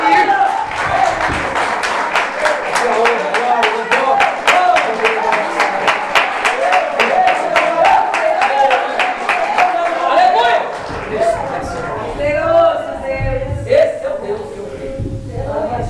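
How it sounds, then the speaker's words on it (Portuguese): A church congregation claps in a fast, even rhythm for about ten seconds, loud and close, with voices running underneath before the clapping gives way to talk and scattered sounds. "Dê uma salva de palmas para Ele."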